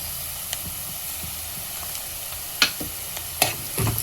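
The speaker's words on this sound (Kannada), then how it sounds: "ಈರುಳ್ಳಿ ಕೆಂಪಗಾಗೋ ತನಕ ಇದನ್ನು ಹುರಿಯೋಣ." Onions and cashews frying in a pan with cinnamon and cloves, a steady low sizzle broken by a few sharp scrapes and clinks of a spoon, with no talking.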